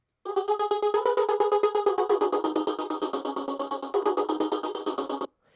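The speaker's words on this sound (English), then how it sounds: "I just have a very simple 16th note tremolo effect going on this audio sample." A sustained musical tone pulses rapidly on and off in an even, fast 16th-note tremolo rhythm for about five seconds before cutting out.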